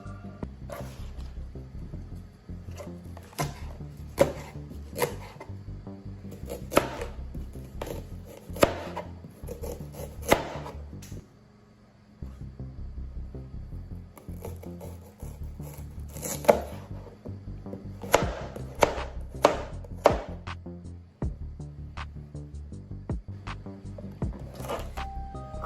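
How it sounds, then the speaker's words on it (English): A knife chopping spring onions on a cutting board, with crisp repeated taps in uneven bursts and a short pause midway, close and fairly quiet, with no talking. "I'm just going to start cutting at once."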